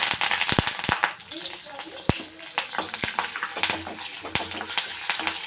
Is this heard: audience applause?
no